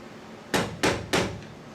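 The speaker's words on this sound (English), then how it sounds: "you're gonna use a hammer or a screwdriver, a punch, whatever you have, to flatten this out" Three sharp hammer blows flattening a metal tab while installing a tailgate assist on a Ram 1500 pickup, in a steady rhythm, close by, each with a bright ringing impact over faint background noise.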